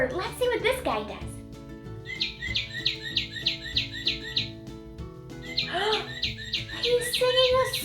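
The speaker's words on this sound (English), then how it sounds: "This is a cardinal. It's red and it makes that sound." Northern cardinal song in a children's rhyming game: a clear run of repeated whistled chirps in a steady rhythm, preceded and followed by a presenter talking, with soft music underneath.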